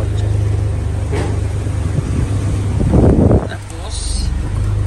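Honda Civic FD engine idling after a remote start, a loud, steady low rumble close by with a brief louder surge in the middle.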